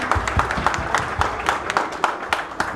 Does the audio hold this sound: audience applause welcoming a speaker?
yes